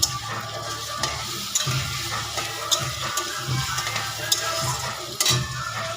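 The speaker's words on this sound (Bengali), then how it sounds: "পেঁয়াজগুলো যে একটু ভাজা হয়ে যাবে, আমি চিংড়ি মাছগুলো দিয়ে দেবো।" Prawns and onions sizzle steadily in a hot pan, a dense continuous crackle with periodic sharper clicks as the mixture is stirred, close and loud with no talking.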